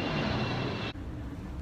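An airplane flies overhead with a broad, loud roar that cuts off abruptly partway through, leaving a quieter background rumble.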